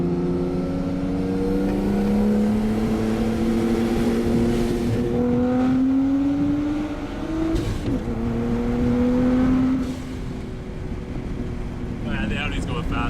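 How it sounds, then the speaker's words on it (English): A straight-piped RB-engined Nissan Skyline racing an Audi, with engines revving hard and rising in pitch through the gears, the loud, continuous drone climbing and dipping between shifts with wind noise. "Oh, yeah, the Audi's going fast."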